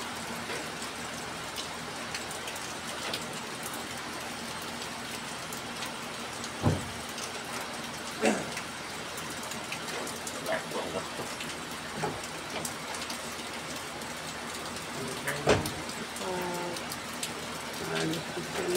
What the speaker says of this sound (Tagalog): Maulan mga kasipag.